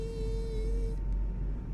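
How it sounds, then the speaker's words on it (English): Steady high electric whine of the yellow hydraulic pump in a Fenix A320 simulator cockpit, a constant tone over low rumble that cuts off partway through, leaving only the cockpit hum. "Depending on the configuration, the yellow electric pump can be loud."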